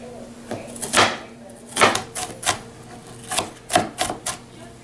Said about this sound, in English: we start out by dicing an onion